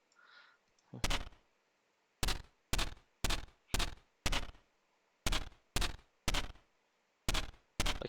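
Cannon turret firing in the Neon Defense video game: eleven sharp, loud booming shots in an irregular rhythm, mostly in quick clusters of two or three, each ending abruptly with silence between.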